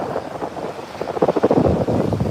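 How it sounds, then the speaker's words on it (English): A loud, broad wash of surf at Virginia Beach with waves rushing and breaking nearby, buffeted by heavy wind noise on the microphone. "these waves are kind of breaking right here"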